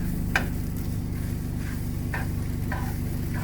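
Scrambled eggs gently turned in a frying pan for a fluffy result, giving a steady close sizzle with a few soft scraping strokes of a spatula against the pan, and no voices.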